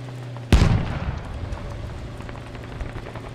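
Gunfire in a shooter video game, a single heavy, loud blast that booms and decays over about a second, followed by low rumbling battle noise in the background.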